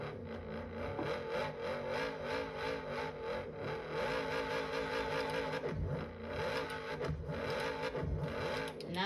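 A stationary Lamborghini Urus engine is revved repeatedly, its pitch rising and falling in close, loud, rhythmic surges with a throaty mechanical whir and no talking.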